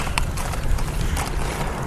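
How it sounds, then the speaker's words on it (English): A Mexican cowboy's horse's hooves clip-clop on the road, a quick, even run of sharp knocks heard close up and fairly loud, with no voices over them. "Hope the bike doesn't scare the horse."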